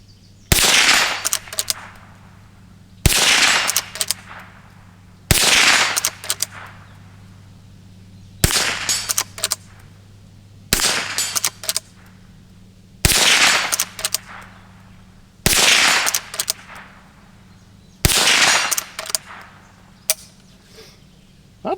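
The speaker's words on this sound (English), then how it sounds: "I'm shooting just a hodgepodge of ammo." Rossi Rio Bravo .22 lever-action rifle shots ring out outdoors, nine sharp, loud cracks spaced a couple of seconds apart, each followed by brief clatter and fading echo.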